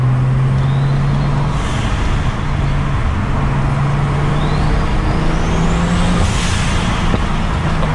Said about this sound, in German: Turbo im Lastbereich schalten ist einfach das Schönste